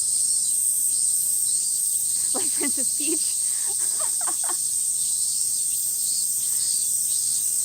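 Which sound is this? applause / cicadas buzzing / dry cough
cicadas buzzing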